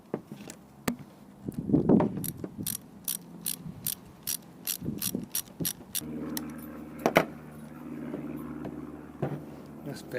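A ratchet clicks in quick, irregular strokes while doing up the bolts on a Honda Civic Aerodeck gear shifter, close and crisp over a low background hum, with a few short pauses and soft handling knocks.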